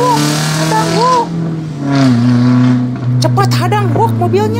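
A car drives up with a loud, close engine whose pitch swoops up and down as it revs and shifts.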